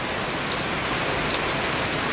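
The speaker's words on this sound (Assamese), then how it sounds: "বৰষুণৰ পৰিমাণটো বহুত বাঢ়ি গৈছে।" Heavy rain falling in a dense, even hiss, close and constant with no breaks or voices.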